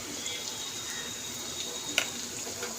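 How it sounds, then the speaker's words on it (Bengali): Banana flower curry sizzling in a pan after sugar is added, a steady low hiss of frying with an occasional light clink of a stirring utensil. "মিষ্টিটা দিয়ে আমি একটু ভেজে নেব"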